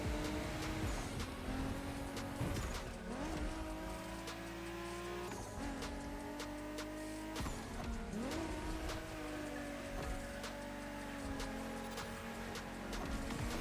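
A car drifts in the racing game The Crew Motorfest, engine revving and shifting through repeated rising pulls while tires squeal and skid in long stretches, loud and continuous with no talk.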